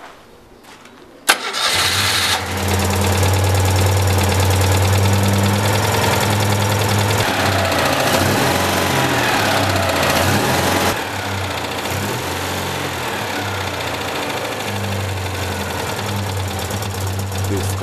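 Combustion engine with up to 21,000 watts of output power starting with a sharp burst, then running as a loud, steady mid-pitched rumbling drone that eases slightly in level later, with no talking.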